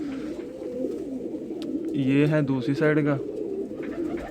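A Ban Jodon pigeon coos in low, throaty rolls that carry through the clip, with one stronger burst in the middle. Someone talks over the birds.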